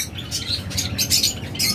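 Pet birds, locally bred lovebirds, budgerigars and cockatiels kept for sale, call in repeated short chirps and squawks close by, several bursts overlapping over a low steady background.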